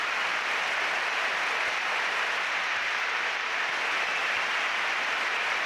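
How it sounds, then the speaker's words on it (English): Steady, prolonged applause from a tennis crowd at the 2006 year-end championships match between Sharapova and Clijsters, a dense unbroken wash of clapping that holds at an even level throughout with no talk. "And prolonged applause here"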